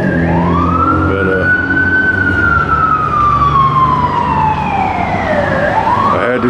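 An emergency vehicle siren wails past on a busy Hollywood street, one long rising and falling sweep that sounds loud and close over the rumble of traffic.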